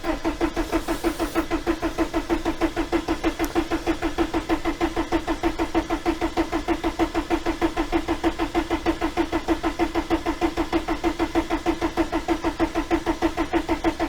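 VW T3 TDI diesel engine cranking on its starter motor with the injector lines loosened, a steady fast rhythmic churning that goes on without catching, loud and close throughout.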